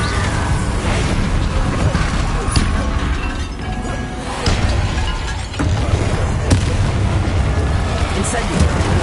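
The Bombarda explosion spell goes off in Hogwarts Legacy, with sharp booming blasts among a steady din of combat sounds, loud and close.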